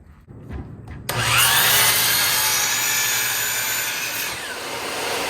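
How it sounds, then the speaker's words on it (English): A saw rips wooden boards lengthwise into narrow strips about three-quarters of an inch wide, starting after a second of quiet and then running loud and steady with a high whine and a low hum for the rest of the time. "These boards are being ripped down to 3/4 of an inch wide"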